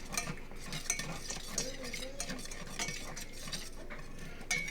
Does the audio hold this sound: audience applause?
no